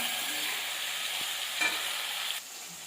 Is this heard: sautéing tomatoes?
yes